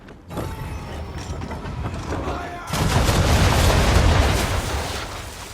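Ship cannons fire in an Assassin's Creed III naval battle, aimed at an enemy ship's bow. Mechanical clanks come first, then a sudden loud, sustained roar of broadside fire and explosions.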